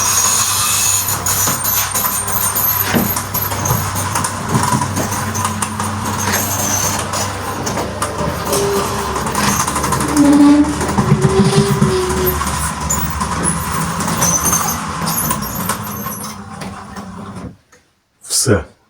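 Motorized gate sliding open, a continuous low mechanical rumble and grinding hum lasting most of the span before stopping, with a short burst of speech at the end.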